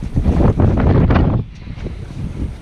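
Wind buffeting a microphone aboard a sailboat on Sydney Harbour, loud low rumbling gusts that ease after a moment into a softer steady rush.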